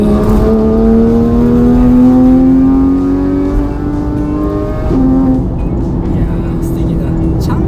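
A Porsche 911 GT3 engine revving, a loud sustained tone that climbs steadily in pitch, then dips and settles, with people talking over it.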